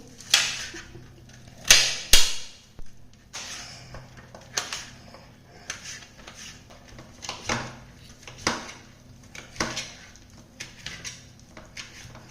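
A knife finely chops roasted bitter gourd on a board, giving irregular sharp taps and thuds, some louder than others, close and with no voices.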